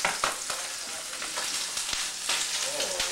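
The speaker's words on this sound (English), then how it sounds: "We have great color right here, right now. Salmon is cooking lovely." Salmon sizzles steadily in a hot pan, a loud, close crackling fry with sharp pops and spatters scattered throughout.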